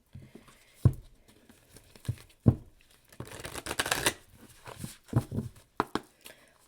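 A Moonology oracle card deck gets shuffled up close: sharp flicks and riffles, then a dense papery rustling burst, followed by more scattered snaps, all fairly soft and with no talk over it.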